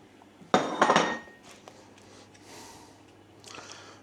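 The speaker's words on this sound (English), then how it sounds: "the meatballs that we'd cooked earlier, they're going into this sauce" Cooked meatballs drop into a pan of sauce with a sharp clatter of a utensil against the pan, followed by faint soft scraping.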